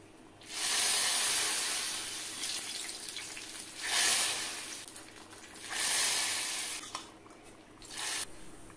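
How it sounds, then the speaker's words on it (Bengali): Spice tempering crackles and sizzles in a little hot oil for a homestyle mixed-dal and vegetable khichuri, the hiss coming in a few loud broad bursts separated by quieter stretches. "এখন ফোড়নটা দিয়ে দিচ্ছি।"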